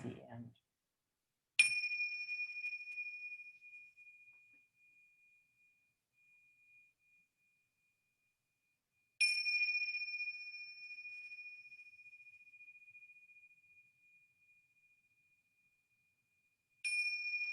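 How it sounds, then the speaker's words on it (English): A mindfulness bell is struck three times, each clear metallic ring swelling and then fading slowly into silence, spaced about seven seconds apart, with only a brief murmur of voice before the first strike. "ring the bell 3 times at the beginning and 3 times at the end"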